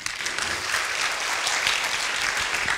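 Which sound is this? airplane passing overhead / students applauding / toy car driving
students applauding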